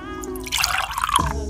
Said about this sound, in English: Now add a splash of lemon juice.